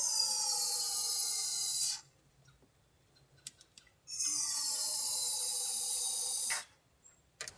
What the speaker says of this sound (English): I like to spray in where the ejectors are, and that gets a coat of fogging oil on the backside of the intake valves.